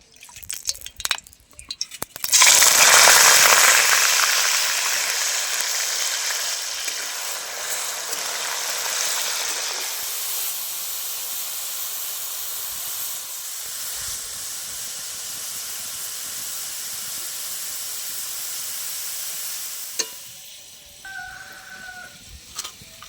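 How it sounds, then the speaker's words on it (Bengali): Grated potato strips frying in hot oil for Bengali jhuri aloo bhaja, a loud continuous sizzle and hiss that swells after a few clattering sounds, then gradually settles into a steadier, quieter crackle. "বাকি আলুগুলো আমি একই রকম করে ভেজে নেব।"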